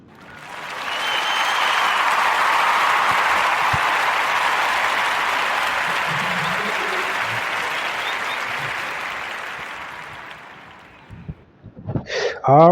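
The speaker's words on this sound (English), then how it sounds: "make a warm round of applause for Christopher Jones and Design Jones LLC" A warm round of audience applause for a podcast guest swells quickly and holds steady as a broad, dense roar of many hands, then fades out near the end with a few brief noises after.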